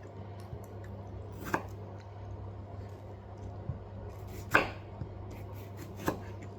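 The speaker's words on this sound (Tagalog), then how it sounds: "Hiwain din natin ito ng square" A knife cuts vegetables into squares for vegetable couscous, giving a few sparse, soft chopping taps against a board over a quiet kitchen hum.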